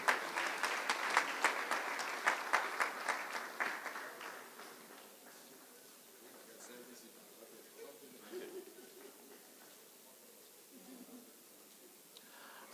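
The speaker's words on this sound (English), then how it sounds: "And a round of applause, please, for our professor himself, Professor Patu Tomi." Audience applause at an award ceremony starts fairly loud with clear individual claps, then thins and fades over a few seconds into a quieter room where faint voices and scattered sounds remain.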